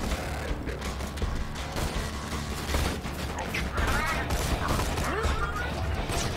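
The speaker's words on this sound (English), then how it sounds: "I love this pistol." Rapid pistol gunfire in Borderlands 2, dense crackling shots and mechanical clatter running steadily throughout, loud and busy with game effects and some voices mixed in.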